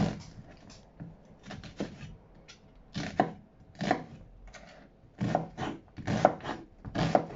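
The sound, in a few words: knife slicing into an onion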